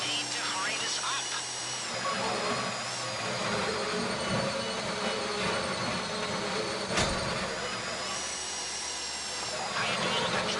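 In a GTA Online heist, a drill whines steadily and at length, with machine-like grinding and tonal squeals layered over a busy background, while voices talk intermittently.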